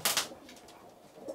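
Soft cooing of young racing pigeons in a loft, a couple of low throaty calls close by with faint rustling between them.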